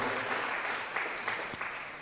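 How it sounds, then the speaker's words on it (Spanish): A congregation at a church service applauds God. The steady, dense clapping fills the whole stretch at moderate loudness, with one sharp louder clap near the end. "De un fuerte aplauso a nuestro Dios"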